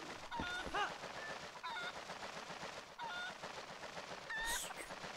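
Chickens in Zelda Twilight Princess HD let out game cackles and squawks in short bursts at regular intervals over a busy, noisy game background, fairly faint overall.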